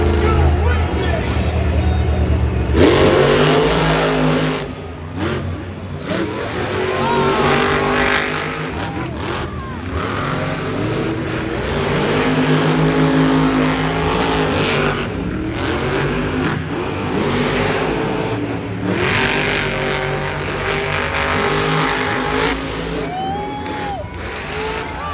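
Monster trucks race in a stadium at a Stadium Championship Series West event in San Francisco, their engines roaring loudly and continuously as a crowd cheers throughout.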